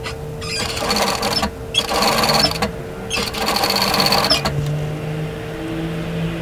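A sewing machine stitches a peplum camisole seam up to a notch in loud, steady bursts with brief pauses between runs, the motor whirring close up before it stops near the end.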